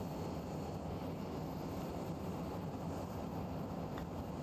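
A plane in the BeamNG.drive driving game takes off slowly, giving a steady, loud engine roar with a broad rushing drone that holds constant throughout, with no talking over it.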